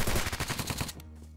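Rapid automatic gunfire in the video game Apocalypse Rising 2, a loud, dense burst of shots for about a second that then cuts off.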